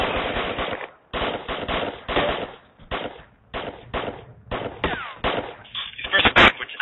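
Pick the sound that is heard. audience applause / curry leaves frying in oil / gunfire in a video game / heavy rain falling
gunfire in a video game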